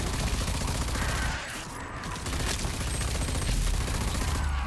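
Sustained gunfire from the video game Rage 2, a dense, loud rattle of rapid shots running almost continuously with a brief dip in the middle, no talk over it.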